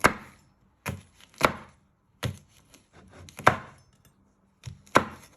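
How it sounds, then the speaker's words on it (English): A kitchen knife slices a seeded bell pepper into thin strips on a board, producing sharp, separate chopping thuds in an irregular rhythm, close and loud with quiet gaps between. "you just want to finely slice it into thin pieces."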